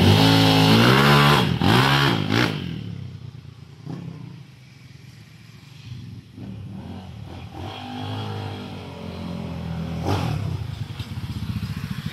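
A 200cc motorcycle engine revs loudly up close during a test with a new exhaust pipe. It rises and falls in pitch, dips to a lower idle and then revs up again.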